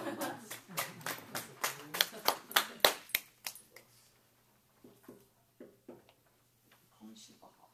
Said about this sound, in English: give that girl a round of applause